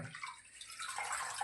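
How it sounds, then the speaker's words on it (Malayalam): Raw pork being washed in water in a home kitchen for a Kerala-style pork fry, a soft splashing and trickling of water close by, steady and fairly quiet. "ഇനി നമുക്ക് ഇത് കഴുകാം. ഇറച്ചി കഴുകാം."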